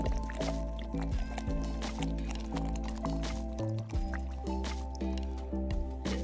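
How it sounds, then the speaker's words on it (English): Tap water pours into a bottle at close range, a continuous gurgling, glugging fill with rhythmic bubbling pulses and a brief pause near the end. "put some water in a bottle, let it sit for a few days. Fill this up."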